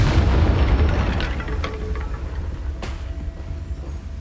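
A deep booming blast from the Confringo spell in Hogwarts Legacy, loud at first, then rumbling off into a long fading roar with faint crackles.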